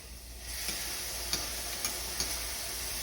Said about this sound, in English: you want to hear that like sizzle, so you know it's heated up